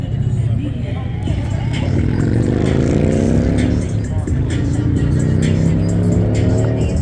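A Ferrari engine revs at a Las Vegas car meet, a loud rising then falling roar close by, with outdoor crowd noise and people talking over it.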